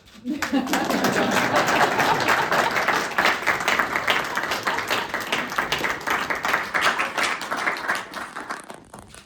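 Applause fills the room at an emotional film press conference with Golshifteh Farahani and Homayoun Ghanizadeh, dense and sustained clapping that swells quickly and then thins toward the end.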